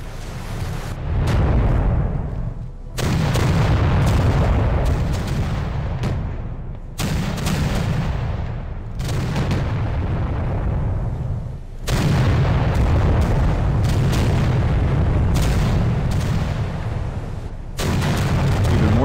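Naval gunfire from warships in the video game Victory at Sea: Pacific, set in a US campaign against Japanese carriers: a dense, rumbling barrage of heavy booms rolling on in long stretches, broken by short pauses.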